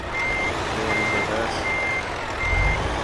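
Reversing beeps from a truck in Euro Truck Simulator, four evenly spaced electronic tones about half a second apart over a low engine rumble, loud and close.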